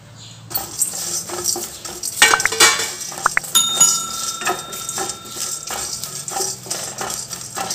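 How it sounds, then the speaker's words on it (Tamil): A metal spoon scraping and clinking in a dry pan as small spices are dry roasted and stirred, with repeated rattles and a few sharp rings. "இப்போ இது எல்லாத்தையுமே சேர்த்து நம்ம ட்ரையாக ரோஸ்ட் பண்ணிக்கலாங்க"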